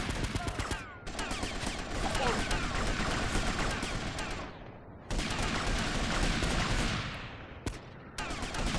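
Gunfire in GTA Vice City Stories on PS2 comes as loud, dense bursts of rapid automatic shots, broken by brief pauses, with scattered single cracks.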